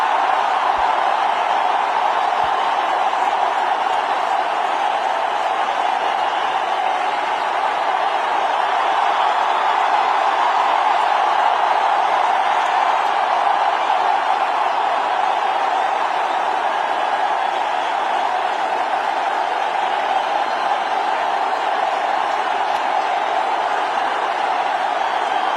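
A large stadium crowd at Sachin Tendulkar's final cricket match produces a dense, steady roar with no breaks, loud and sustained from start to finish.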